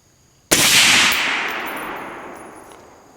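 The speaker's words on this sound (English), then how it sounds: "One more shot." A single 6.5 Creedmoor shot from an AR-10 precision rifle cracks sharply at close range during an accuracy test, its loud report ringing out and decaying slowly over a few seconds.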